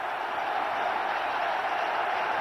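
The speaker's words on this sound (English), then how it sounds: "Well, the crowd go berserk." A cricket crowd applauds Azharuddin's century with a dense, steady roar of clapping and cheering that holds at a constant level throughout.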